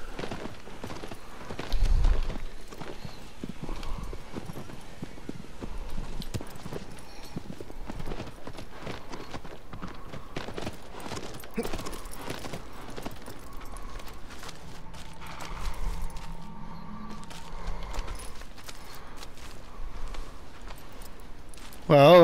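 A horse's hooves clip-clop steadily through a dark forest in the video game Shadow of the Colossus, with a regular walking rhythm under a voice and a few louder thumps.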